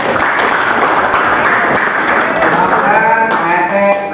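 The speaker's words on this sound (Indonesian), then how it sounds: "betul, tepuk tangan" Classroom applause from students at SMPN 10 Kota Bogor after a correct answer, a burst of mixed clapping with some voices and chatter mixed in, close and lively.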